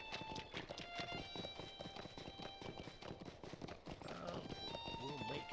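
Horse hooves clip-clop at a walking pace through shallow water in Lord of the Rings Online, a steady near rhythm of hoofbeats under someone talking.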